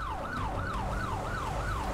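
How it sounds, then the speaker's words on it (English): A wailing police siren in the GTA 5 video game, sweeping up and down in steady, rapid cycles, loud and close throughout with no talk over it. "Nobody listen to the siren?"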